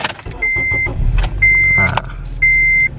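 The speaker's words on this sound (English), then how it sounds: "there's that famous chime that Hondas make once you turn them on" Ignition chime of a 2007 Acura TSX as the key turns: three steady electronic tones, each about half a second long, evenly spaced and loud, sounding over a low vehicle rumble with no talking.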